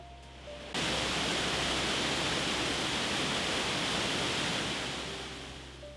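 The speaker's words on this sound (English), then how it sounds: "Near the train station lies a small dam in the river Babrinkas" Water pours over a small dam on the Babrinkas river in Plungė, Lithuania, a steady broadband rushing roar that swells in abruptly and holds constant, close and continuous with no voices.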